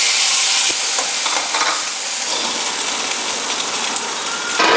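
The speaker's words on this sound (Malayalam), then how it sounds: "ഈ സമയം കൊണ്ട് നമുക്ക് കാഷ്യൂ, നമ്മുടെ മുന്തിരിയൊക്കെ നമുക്ക് വറുത്തെടുക്കാം" Cashews and raisins fry in a pan, a dense crackling sizzle like light rain, with a spoon stirring and a brief sharp knock early on.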